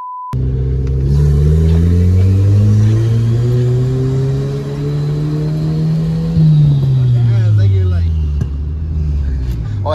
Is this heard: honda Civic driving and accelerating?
yes